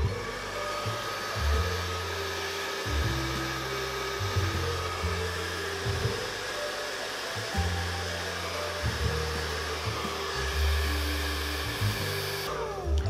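A hair dryer blows steadily and loudly close by while styling a short men's haircut, its whooshing airflow wavering as the nozzle moves, with a brief change in tone near the end.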